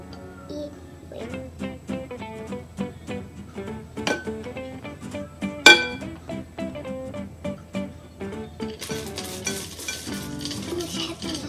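A spatula repeatedly scrapes and taps through chocolate chip cookie dough in a bowl, giving a steady run of close, rhythmic knocks and scrapes that grow into a brighter rustling near the end.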